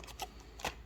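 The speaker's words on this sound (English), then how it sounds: "She's going to shuffle and cut" Playing cards shuffled close by, two quick riffle bursts with soft papery flutter in between, faint and alone.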